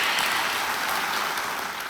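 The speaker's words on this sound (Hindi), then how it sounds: "एक बार फिर तालियों के साथ उनका स्वागत।" Studio audience on a quiz show stage gives sustained, even applause to welcome honoured guests, a full wash of clapping with no voices over it.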